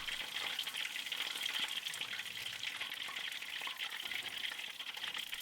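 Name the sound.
Thai chicken drumsticks deep frying in oil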